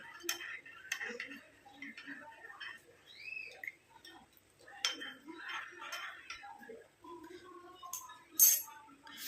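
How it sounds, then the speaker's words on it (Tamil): Light clinking and tapping of a spoon stirring coffee powder into water in a container, irregular and close, with soft movement noises between the taps. "இந்த காஃபி பவுடர் நல்லா கலந்து வச்சுக்கலாம்"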